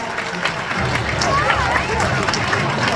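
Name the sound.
audience applause for tiger Adira at Dreamworld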